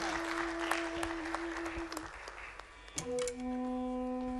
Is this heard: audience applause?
yes